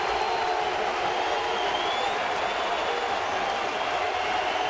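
A baseball stadium crowd rising to its feet and cheering, a broad continuous roar that holds steady and loud throughout with no breaks.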